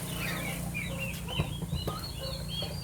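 Turkey chicks peep in a small group, a soft scatter of high, thin chirps overlapping above a low steady hum, with a few faint bumps and rustles, close but not loud.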